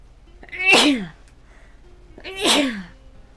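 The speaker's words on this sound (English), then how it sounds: "That was a cute sneeze?" Two sneezes about two seconds apart, close and fairly loud, each a sharp burst that trails off, with quiet between them.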